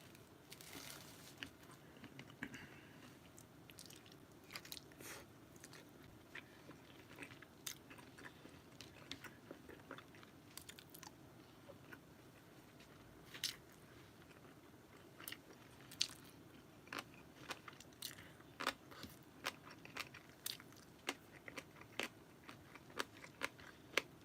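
Someone eats a grilled king-size tteokgalbi (Korean minced short rib patty) lunch box, with repeated close crunchy bites and chewing over a steady low background, no talking.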